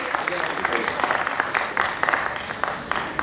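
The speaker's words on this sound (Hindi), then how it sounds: "एक बार जोरदार तालियां हो जाए सिद्धार्थ के लिए" Audience applause at a Hindi poetry open mic for a poet, dense continuous clapping with sharp individual claps popping out, fairly close and loud throughout.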